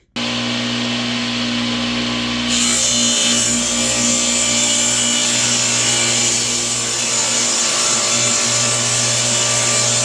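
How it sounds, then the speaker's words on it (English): A table saw spins up loud and close, then cuts through a 4x8 plywood sheet with a steady, bright whine and a constant hum underneath, running continuously throughout. "it is going to take a lot of space to cut this on the table saw"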